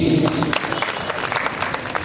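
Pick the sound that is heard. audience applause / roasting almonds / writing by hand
audience applause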